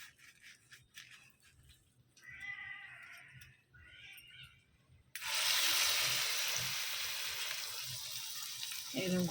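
Battered mushroom pakoras dropped into hot oil, where a sudden loud, steady frying sizzle bursts in midway and carries on after softer kitchen clatter and a brief voice.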